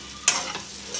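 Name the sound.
stirring egg fried rice with soy sauce and vinegar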